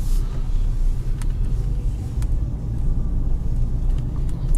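A Lada Granta automatic from 2020 pushes up a snowy hill, giving a steady deep engine and road rumble with occasional faint clicks and crunches from outside the car.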